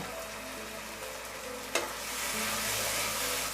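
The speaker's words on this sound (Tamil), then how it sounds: "இப்போ 2 நிமிஷமாக தக்காளி வெங்காயம் வதங்கின்னு இருக்குது" Tomato and onion sautéing in a pan for a Chettinad fish curry, a steady close sizzle with a brief sharp clatter midway before the frying swells a little louder and carries on alone.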